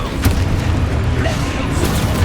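A Confringo blasting spell explodes in Hogwarts Legacy, a loud crashing boom over a dense, noisy background of combat effects, brief and forceful.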